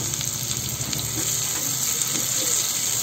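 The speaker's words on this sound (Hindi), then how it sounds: "दो से तीन मिनट लगेंगे हमारे तड़के को फ्राई होने में।" Asafoetida tadka frying in hot oil for a dhaba-style urad chana dal, a steady, close sizzle with continuous bubbling hiss and no talking.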